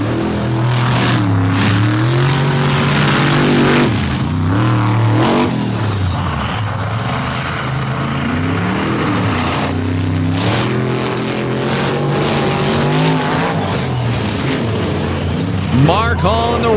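A monster truck engine roars and revs loudly and steadily at a monster truck show in Bloomsburg, with the pitch rising and falling through a run and a brief sharp climb near the end.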